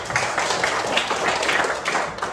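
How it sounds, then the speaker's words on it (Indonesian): Group of students clapping hands together in a classroom during an emotion-control lesson, a steady patter of many hands for about two seconds, moderately loud with no talk over it. "Tepuk tangan."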